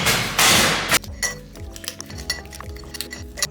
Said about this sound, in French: donc je mets des glaçons